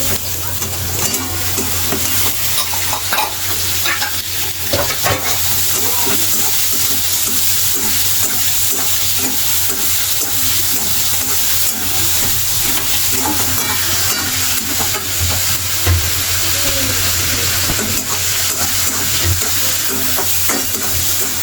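Onions frying in about a cup of oil for Maharashtrian kanda poha, a steady loud sizzle with spoon scrapes and stirring clatter throughout, no talking.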